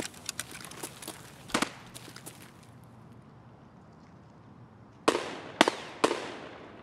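Gunfire in the video game Escape from Tarkov comes as a quick cluster of sharp shots, then a pause, then three loud, evenly spaced reports near the end.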